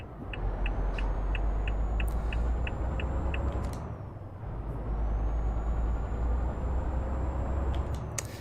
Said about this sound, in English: I love the sound of the truck.